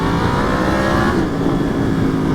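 Yamaha FZ-10 motorcycle engine held at a loud, steady high-rev roar, close and continuous throughout with no pause.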